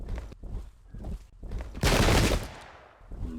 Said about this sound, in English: Poorly disciplined fire there.